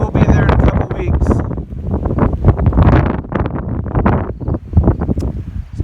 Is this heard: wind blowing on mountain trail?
yes